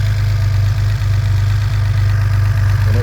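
A fully built high-compression Datsun 240Z L28 street engine runs at a steady idle, with a loud, close, low throbbing drone and a faint knocking pulse and no voices.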